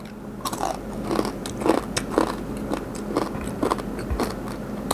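Large pieces of crispy pork rind dipped in fermented fish sauce are chewed loudly and close up, with a rapid run of sharp, crackling crunches and no talking.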